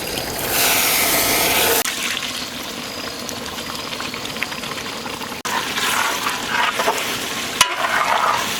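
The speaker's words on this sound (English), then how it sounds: "now we add some water." Water poured into a sizzling pan of Kerala-style chicken curry base with tomatoes, a loud steady hiss and bubbling that drops and shifts as the liquid goes in, with a few clanks of a utensil.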